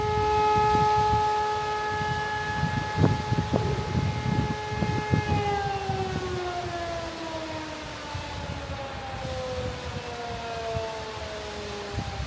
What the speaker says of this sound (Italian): l'apertura viene annunciata con le sirene